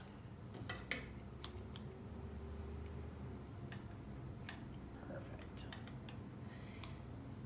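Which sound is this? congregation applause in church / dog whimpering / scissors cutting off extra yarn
scissors cutting off extra yarn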